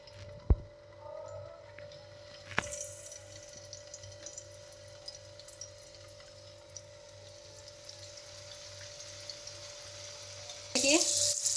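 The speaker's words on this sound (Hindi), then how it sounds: "अब इसको हम चलिए फ्राई कर लेते हैं" Seekh paratha fries in a little oil on a non-stick pan with a steady, soft sizzle. A few sharp clicks of utensils break in, and a louder burst of sizzle rises near the end.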